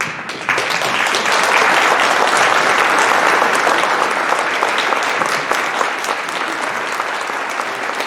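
An audience claps as military veterans stand at a public ceremony, a loud, dense round of applause that starts abruptly and carries on evenly for several seconds with no speech.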